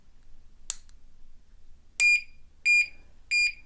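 A security lock alarm gives its warning after being tapped with a lockpick handle: a sharp tap, a second knock, then three loud, evenly spaced electronic beeps, close and clear against near silence.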